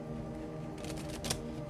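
Tarot cards being shuffled by hand nearby, a soft continuous riffling and flicking with a brief louder burst of cards slapping together near the end, heard alone without voices.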